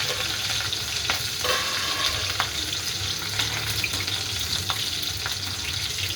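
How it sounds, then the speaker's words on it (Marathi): Green chilies frying in hot oil for a fasting-style nylon chivda, a dense continuous sizzle heard up close with a low rumble beneath and occasional light clicks from the pan. "आता आपण मिरची टाकून देऊया"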